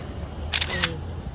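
Two sharp camera shutter clicks, about a third of a second apart, land close and crisp over quiet street background at a market area in Korea, with no speech.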